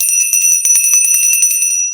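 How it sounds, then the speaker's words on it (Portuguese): An office bell rung to mark a sale, struck rapidly many times in a bright metallic ringing that sustains, loud and close. "quando tem vendas, a gente bate o sino"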